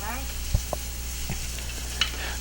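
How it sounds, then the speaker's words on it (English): Onions and garlic caramelizing together in a pan for Hungarian goulash, a soft steady sizzle with a few brief stirring knocks, close and fairly quiet. "Caramelizing the onions and the garlic together."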